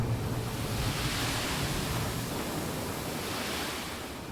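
Sand pouring from a dump truck's bed in RoadCraft, a steady rushing hiss with a low rumble early on, fading slightly toward the end, with nobody speaking.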